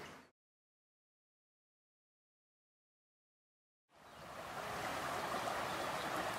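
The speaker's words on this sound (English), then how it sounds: "It's quiet, just the sound of the water now, the birds in the evening." The River Wharfe at Boston Spa flows steadily on an evening riverbank, a broad rushing wash that cuts in after a long stretch of silence and then holds at an even, moderate level.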